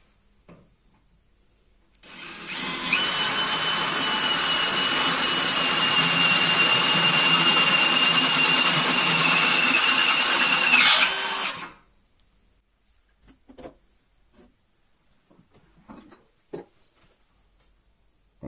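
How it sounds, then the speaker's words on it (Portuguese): A DeWalt DCD7771 brushless drill bores into metal in one sustained run of about nine seconds, a loud steady high whine that starts abruptly and cuts off, followed by quiet handling clicks. "furações em metal. Primeiro uma broca mais fina e em seguida a gente trabalha com a broca mais grossa"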